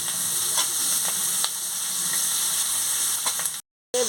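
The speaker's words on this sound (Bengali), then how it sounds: "ভেজে নিচ্ছি।" Prawns and chopped onion fry in hot oil with a steady, close sizzle and light stirring clicks, broken by a brief silence near the end.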